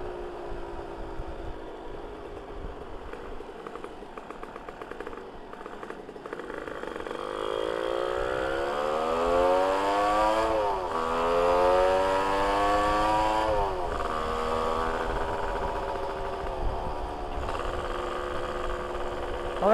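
A modified Yamaha V80 motorcycle on the road, its two-stroke engine droning steadily and then rising and falling in pitch through gear changes as it accelerates, heard close from the rider's position with wind rumble underneath.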